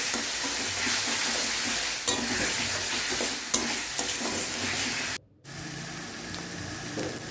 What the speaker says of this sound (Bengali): এবারে তেল ছাড়া অবধি মশলাটা কষাবে